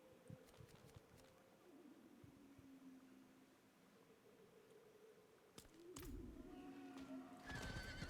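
A horse whinnies in the Diablo 4 video game, a clear neigh set against low ambient game sound, followed by louder rustling and movement noise near the end.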